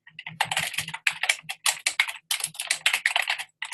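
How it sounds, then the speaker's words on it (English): Fast typing on a computer keyboard, close and clear, with irregular bursts of keystrokes and short pauses between them. "you're going to type your answers onto this Word document"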